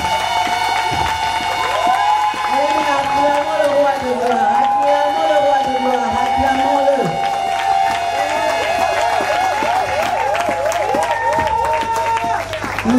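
A church congregation cheers and applauds loudly and continuously throughout, with shouts, ululating voices and clapping over a sustained musical tone.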